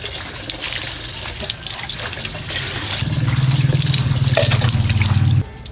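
Water runs steadily from a faucet at an outdoor bathing spot on new cement, a constant splashing gush that grows fuller and louder partway through as the flow hits water, then cuts off near the end.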